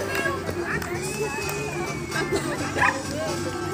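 A dog yips and barks repeatedly at a dog agility competition at a festival in Plovdiv, while an announcer talks and a crowd murmurs in the background.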